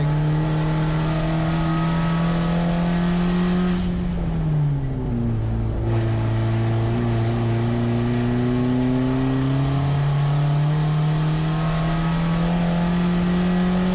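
A VW Jetta GLI Super Touring race car on track at Thunder Hill Raceway with a boost leak, engine droning loudly as its pitch dips briefly and then climbs back into a steady high whine.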